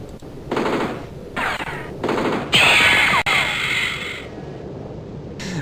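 Repeated bursts of machine-gun fire in the turn-based strategy game Spellcross, several evenly spaced loud rattling volleys with a mechanical effect in the middle, over low background music.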